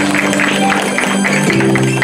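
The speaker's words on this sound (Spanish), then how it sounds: "Y Lesti Sosa, el aplauso para ellos también." Guests applauding at a quinceañera celebration, a steady wash of clapping that carries through the whole moment with music or voices running beneath it.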